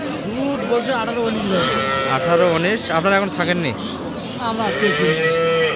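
A tall Jersey-bred dairy cow at a cattle market gives drawn-out, wavering moos, loud and close, blending with people talking nearby.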